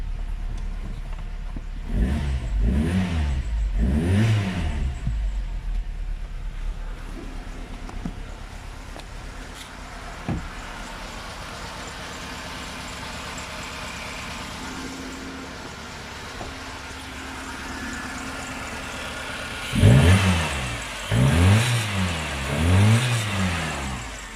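A Tofaş sedan engine, fitted with a new throttle body, runs steadily at idle and is revved in three rising-and-falling bursts near the start and three more near the end, loud and close with no talking.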